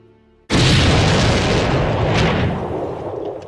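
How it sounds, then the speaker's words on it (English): A massive, sudden explosion of staged pyrotechnic charges at midnight in Hatfield, erupting from silence into one loud, broad blast that rolls on and slowly fades. "At midnight, the residents of Hatfield were woken by a massive explosion."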